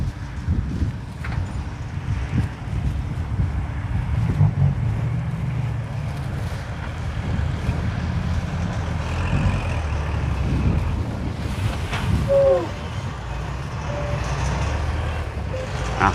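Wind blows across the microphone in a continuous low, buffeting rumble with uneven gusts, and faint scattered sounds sit in the background.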